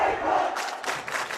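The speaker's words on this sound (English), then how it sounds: "Crowd's starting to really get into this game." Crowd cheering and roaring at a high school hockey game during the Halvorsen Cup Final, Kinnelon vs. Vernon, a steady broad wash of voices with bursts of louder yelling rising and falling.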